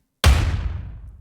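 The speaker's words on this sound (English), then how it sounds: "Today's explosion is brought to you by two parts." A layered explosion sound effect sample with a kick drum strikes once with a sharp, loud attack, then a deep boom tails off over about a second.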